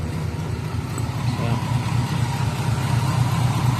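A Ford Mustang engine barely holding its idle, a steady low rumble throughout with people talking over it in a shop.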